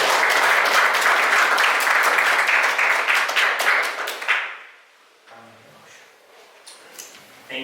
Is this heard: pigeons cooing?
no